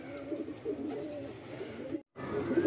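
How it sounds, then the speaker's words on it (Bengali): Active pigeons coo in a loft, a close, soft stream of low murmuring calls overlapping continuously with a brief gap near the end. "প্রচুর অ্যাক্টিভ পায়রা"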